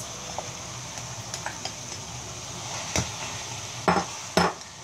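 Parboiled basmati rice being mixed in a hot pan, with a soft background sizzle and a few scattered scraping and clinking knocks of a utensil against the pan, sharper toward the end.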